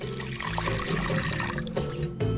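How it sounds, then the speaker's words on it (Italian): Lukewarm water is poured into a bowl of crushed yeast to start a bread dough. The pour makes a steady, close splashing gush that runs continuously and stops near the end. "Versiamo acqua tiepida."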